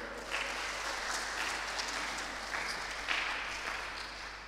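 Congregation applauding in a church hall during a closing worship service, steady dense clapping of moderate loudness lasting throughout.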